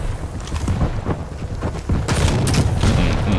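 Rocket launcher blasts in the arena shooter Quake Champions, a dense run of booming impacts and gunfire-like cracks layered over continuous action noise, loud and close, with a brief burst of talk.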